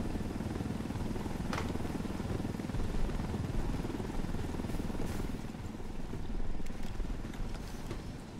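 Helicopter in the video game Ghost Recon Wildlands: a steady, loud rotor and engine roar holds throughout, with a few brief sharper noises on top.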